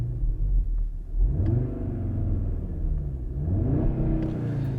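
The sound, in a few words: Audi RS Q3 Sportback engine revving in sport mode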